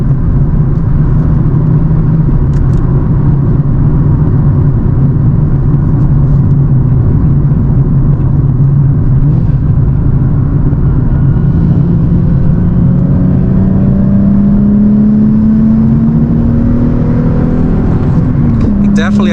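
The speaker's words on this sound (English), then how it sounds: "Definitely accelerates a lot faster. I was in 4th gear." A 2009 Nissan 370Z fitted with a Z1 Motorsports cold air intake accelerates in fourth gear, its engine droning loudly and steadily, the pitch climbing toward the end, with someone talking over it.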